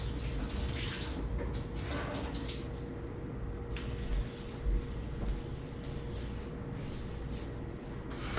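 Water running steadily from a tap while a dirty rock is washed, a continuous hiss and splash with faint clicks and knocks over it.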